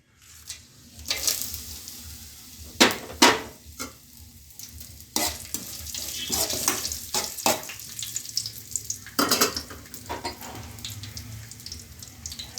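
Spices sizzling in hot oil in a pan for semiya chicken biryani, a steady low fry broken by repeated sharp, bright crackling bursts and stirring scrapes, close and fairly loud.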